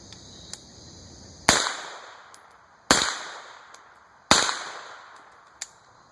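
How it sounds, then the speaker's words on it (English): An AR9 pistol fires three sharp, loud gunshots about 1.4 seconds apart, each with a short ringing decay, followed by a fainter click-like crack near the end. "So we'll take a couple shots here and let you guys see how it runs."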